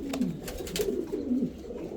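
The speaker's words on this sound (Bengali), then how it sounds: "সবগুলা পাকিস্তানি টেডি কবুতর, সব পাকিস্তানি টেডি কবুতরের বাচ্চা" Pakistani teddy pigeon chicks coo close by in soft, low, warbling calls that overlap and repeat steadily without pause.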